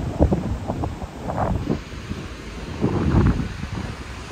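Wind buffeting the microphone on the beach at Puerto de La Libertad, gusting in loud irregular bursts over a constant rushing background with a faint steady high hiss.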